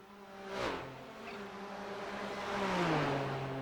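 Race cars in iRacing at the Nürburgring Nordschleife, engines whining and shifting as they brake and accelerate, one car swelling past nearby over a steady background of engine drone.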